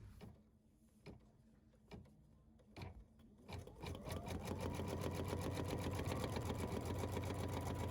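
After a few sparse clicks and taps, an embroidery machine starts stitching hand-look stitches on fabric in a hoop, settling into a fast, even mechanical patter that runs steadily to the end.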